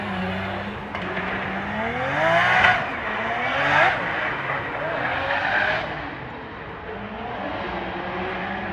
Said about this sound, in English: I can hear Eftichios heating up his wheels on the start line.